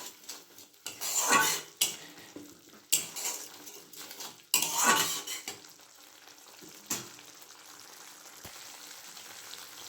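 Cabbage stirred and fried in a pan with salt, turmeric and Kashmiri chili powder: a spoon scrapes and clinks against the metal in bursts over a soft sizzle, then fades to quieter frying near the end.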